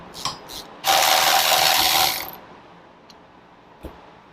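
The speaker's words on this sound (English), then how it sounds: "we're going to take a 14mm Allen. We're going to loosen up the axle." A ratchet wrench with a 14mm Allen bit clicks rapidly as it loosens the front axle of a 2014 Kawasaki Z1000, one loud close burst of about a second, then a few faint metallic taps.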